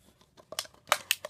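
Several short, crisp snips of scissors cutting around the bottom of a stiff plastic bottle, closely spaced and growing louder, with faint crinkling between cuts.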